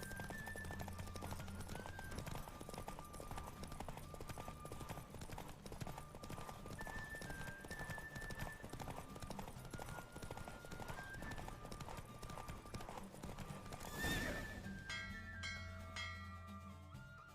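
A horse gallops in a race in The Witcher 3, its hooves drumming in fast, steady clip-clop for the whole stretch, joined by a sharp burst near the end and a brief whinny as the pace eases.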